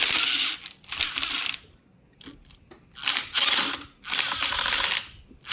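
VEVOR electric truck crane winch running in short bursts, a whirring geared motor with ratcheting mechanical rattle, starting and stopping several times with quiet gaps between, close up and without speech.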